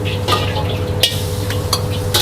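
Nasi goreng stir-fried in a wok at a street food stall, a steady close sizzle and frying hiss broken by sharp scraping strokes of the spatula against the pan, with no talking.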